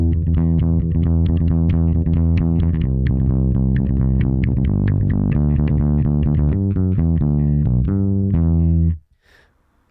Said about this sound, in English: I basically just double the rhythm Tommy plays with his drum kit